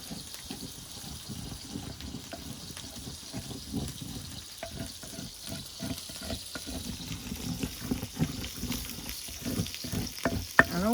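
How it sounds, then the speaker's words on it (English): A pine kernel sauce with vinegar, made to an Apicius recipe, is stirred in a pan with a soft, steady wet sizzle and a spoon scraping rhythmically to loosen the paste, faint and close, with no talk. "And then we give it a stir, and we begin to loosen everything."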